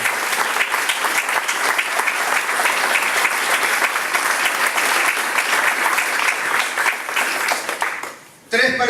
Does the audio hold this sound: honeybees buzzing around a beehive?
no